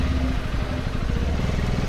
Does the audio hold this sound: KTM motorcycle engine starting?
yes